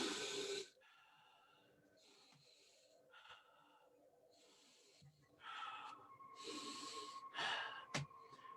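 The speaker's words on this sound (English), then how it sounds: "All he did was breathe." Heavy, drawn-out breaths from a silent man in a black trench coat approaching in the dark, several loud rasping inhales and exhales with quiet gaps between, close and unaccompanied by talk.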